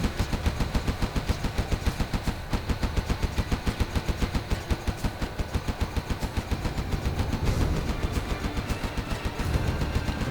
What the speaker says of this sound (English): Look at the range on that Gatling cannon compared to the cannons on the tank.